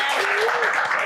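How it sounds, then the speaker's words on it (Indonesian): Audience applause at a live talk show with the mayor of Palu, a brief burst of dense clapping heard alongside a speaking voice. "Tepuk tangan dulu."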